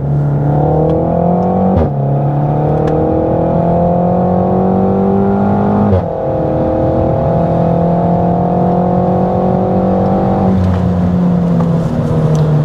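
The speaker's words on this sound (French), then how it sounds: "on va tenter une première accélération" A Renault Mégane 4 RS accelerates hard from inside the cabin, its engine droning loud and rising in pitch through each gear, with brief dips at the two upshifts.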